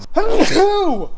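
A single sneeze bursts out in a garage setting, loud and close, followed by a brief rising voiced sound; a person speaks a short word during it.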